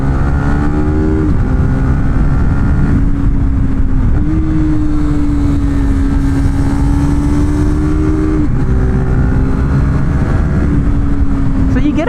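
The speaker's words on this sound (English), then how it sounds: "Here, we'll open it up." A KTM RC390 motorcycle with an aftermarket exhaust revs hard and close, its engine holding a loud, raspy drone with a few rises and dips in pitch across the whole stretch.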